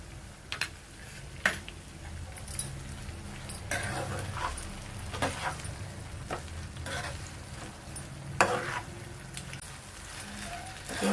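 Grated raw mango pickle frying and being stirred in a pan, a soft continuous sizzle under scattered scraping clicks of the spoon against the pan, close and moderately quiet with no talk.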